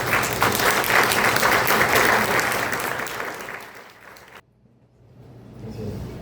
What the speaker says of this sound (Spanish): Les pido un fuerte aplauso de nuevo para este gran momento.